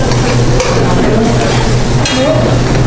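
A spoon stirs a hot zucchini, tomato and cheese sauce as the cheese melts, a steady close scraping and soft sizzle running continuously without pause and without speech.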